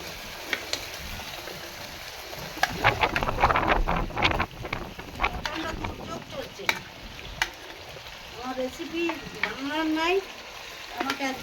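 Chicken pieces hit hot spiced oil in a pan for Afghani chicken, giving a loud rush of sizzling and stirring scrapes, with strong outdoor wind noise and a few brief voice-like sounds near the end.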